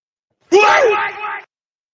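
A single loud, close human yell lasts about a second, a raw drawn-out shout that cuts off abruptly, with silence before and after.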